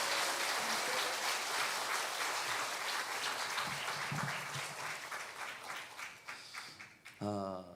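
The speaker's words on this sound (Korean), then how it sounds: "너무 잘 오셨다고 박수 한번 주시기 바랍니다." A church congregation claps warmly for newcomers, a sustained wash of applause that thins and tapers toward the end before a voice begins speaking.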